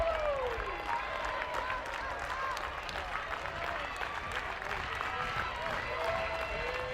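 Softball crowd at Bogle Park, Arkansas, applauding and cheering steadily through a college game against Missouri, a broad wash of clapping and voices under faint commentary.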